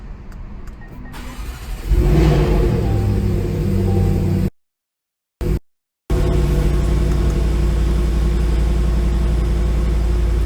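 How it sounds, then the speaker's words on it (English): A 2019 Jaguar F-Pace SVR fires up from cold with a loud starter whir and sudden bark into a deep, steady idle. The sound cuts out briefly twice before the heavy rumble continues close up. "we're gonna go ahead and start it up and see how it sounds"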